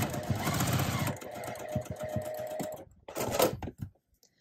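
A domestic sewing machine stitches a pinwheel star quilt block in short bursts of rapid needle chatter, pausing between runs, close and fairly quiet.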